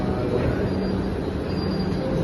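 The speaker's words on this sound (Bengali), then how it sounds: "ভাগ্যে এই পুরোনো মেট্রোটা আসছে প্রত্যেকবার।" An old Kolkata Metro train rumbles loudly into a station with a continuous low roar and wheel squeal that holds steady throughout, close by.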